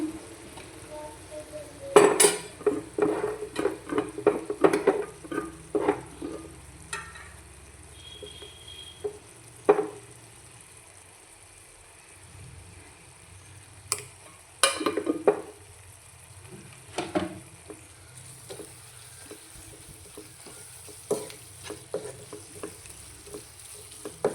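Chili powder being stirred into egg masala in a hot pan: a steady low sizzle with bursts of scraping and clinking spoon strokes against the pan, busiest early on, then sparser stirring taps.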